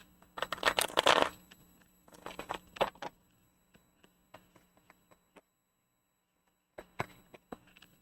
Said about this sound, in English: I'm going to just shuffle these and say it again real quick.